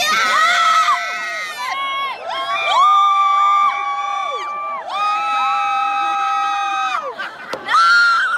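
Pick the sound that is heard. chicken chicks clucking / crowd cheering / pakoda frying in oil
crowd cheering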